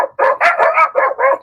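Someone imitates a dog with his voice, giving a quick series of about five loud, close barks with short gaps between them.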